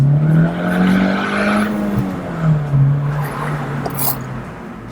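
A supercharged 2013 Honda Mugen CR-Z with a 1.5-litre engine drives and accelerates on city streets. Its engine drones steadily with mild rises and dips in pitch under road noise, and a voice is briefly audible.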